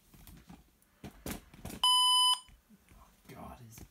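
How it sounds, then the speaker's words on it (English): A single loud electronic beep from an old IBM ThinkPad laptop sounds for about half a second, with people talking quietly before and after it. "Beeping sound"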